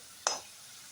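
Potatoes dropped into hot mustard oil in a wok with dried chilli and panch phoron give a single sudden sizzling burst that fades quickly into a quieter hiss.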